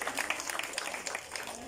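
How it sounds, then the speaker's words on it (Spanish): Crowd clapping at a political party gathering in Tierra Blanca, a continuous even patter of many hands, fairly close and moderately loud, with no talking on top. "Fuerte el aplauso."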